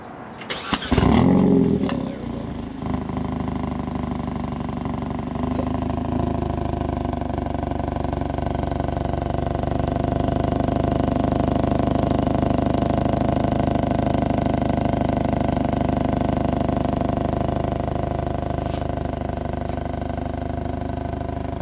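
Hyundai Kona N fitted with an MBRP exhaust, exhaust valve closed, cranking briefly then firing up into a loud, steady, rumbling idle that continues close by without talk.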